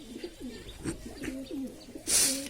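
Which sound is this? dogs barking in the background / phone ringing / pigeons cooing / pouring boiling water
pigeons cooing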